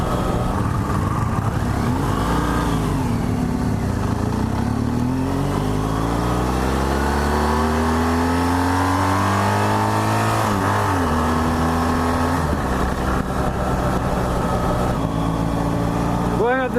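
A 2015 BMW R1200GSA motorcycle engine pulls uphill in third gear, its loud low drone climbing steadily in pitch over many seconds, briefly dropping and then rising again, all beneath heavy wind rush.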